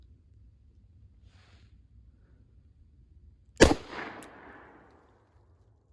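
Single loud, close gunshot from a .410 shotgun firing a Hornady Critical Defense shell at 5 yards, one sharp crack with a short trailing echo after a quiet lead-in.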